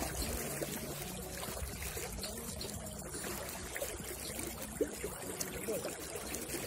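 Strong, cold river current at Las Brisas, Matagalpa rushes continuously and loudly, a dense broadband wash of flowing water close by with no clear talk.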